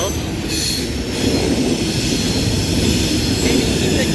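A long CSX freight train of boxcars and coal hoppers rolls past close by, a continuous loud rumble of wheels on rail with squealing metal and light clatter.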